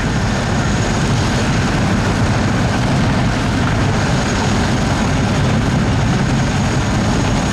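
A Royal Navy AgustaWestland Wildcat helicopter from the Black Cats display team makes a flypast at an air show, a loud, steady, dense engine and rotor roar that holds its level without pause.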